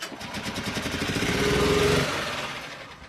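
A Reaper minichopper engine runs close by at a steady, buzzy idle, builds briefly in revs with a rising drone, then settles back down.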